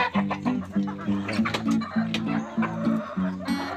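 Female red junglefowl kept in a cage clucks repeatedly in a steady, close rhythm of short throaty notes with faint background noise.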